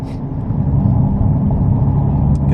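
A Nissan GT-R engine drones steadily and loudly from inside the car in third gear as the throttle is reapplied, a continuous low rumble with no clear rise in pitch.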